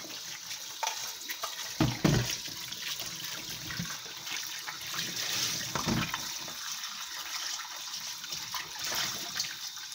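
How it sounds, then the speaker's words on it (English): Carrots are washed under a running kitchen tap, a steady hiss of flowing water with occasional splashes and knocks as the carrots are handled, no voices. "I'm going to wash my carrots."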